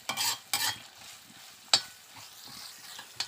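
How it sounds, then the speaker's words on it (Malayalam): Onions frying in a pan, stirred with a few sharp scraping strokes over a soft, low sizzle, with quiet gaps between the strokes. "നന്നായിട്ട് ഇളക്കി കൊടുക്കാം"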